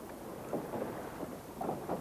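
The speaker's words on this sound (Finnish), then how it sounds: "Keulan puolelta nousee myrsky." Storm at sea in a drama: a dense, rumbling wash of wind and rain noise surges and swells continuously, with low thunder-like rolls and no voices.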